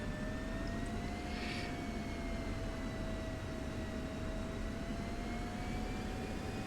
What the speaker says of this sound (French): Je m'aligne, on décolle tranquille